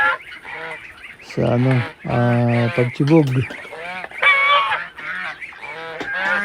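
Geese and their goslings honking loudly and clamoring close by while rushing to feed, a dense flurry of overlapping calls, with a person talking among them.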